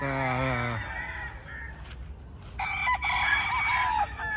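Young pullets and other chickens on a free-range area, with a loud rooster crow at the start followed by steady clucking and calls from the flock close by.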